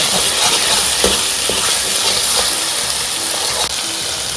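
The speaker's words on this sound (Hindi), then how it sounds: "अब इसमें थोड़ा सा हम गार्लिक डाल देंगे और गार्लिक को भी आप फ्राई कर देंगे।" Garlic frying in a hot pan for Hong Kong style chicken chow mein gives a loud, steady sizzle, broken by a few sharp scrapes and clinks of a utensil stirring it.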